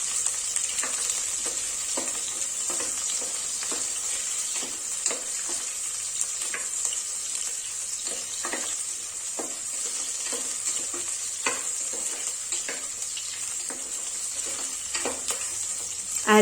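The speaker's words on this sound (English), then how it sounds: "Add ginger pieces. Mix them properly." Ginger pieces are stirred in a hot frying pan for a restaurant-style chicken curry. A spatula scrapes in steady repeated strokes over a continuous close sizzle, with no voices.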